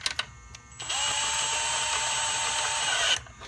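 A power drill set to a tightening mode drives spark plugs into a 2014 Ford Taurus, running in one steady, close whir for about two seconds after a few brief clicks, then stopping.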